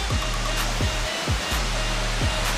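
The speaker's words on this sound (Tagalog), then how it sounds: "Ito yung pinakamagandang part ng falls." A waterfall at Solkok Falls in Vintar, Ilocos Norte pours in a loud, steady broadband rush, close by, with low thumps and rumbles from handling noise breaking through now and then.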